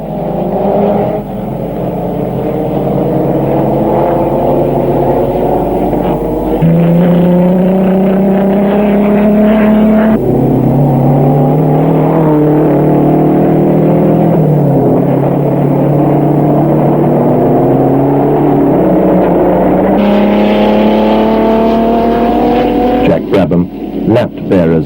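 Racing cars at the 1959 French Grand Prix, including a Lotus and a Ferrari, roar past with loud, rising and falling engine tones and shifting pitch as they accelerate and change gear, sustained throughout the stretch.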